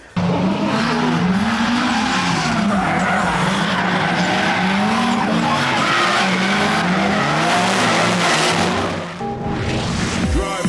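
A Nissan 180SX drift car slides through a long skid, tires squealing continuously over a loud, rising and falling engine roar, close and intense for about ten seconds before a brief dip and renewed squeal.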